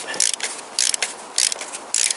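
A ratchet wrench on a long extension bar loosens a deep-set spark plug in a Toyota Avensis engine, giving four short bursts of rapid metallic clicking, each about a third of a second long, with brief pauses between them.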